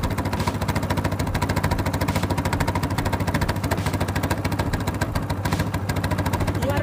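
An Apache RTR motorcycle engine idles steadily up close, a continuous low, throbbing exhaust rumble with a fast regular pulse and no voices.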